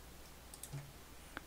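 A single soft computer mouse click in a quiet room, a faint isolated tick with a couple of tiny clicks around it.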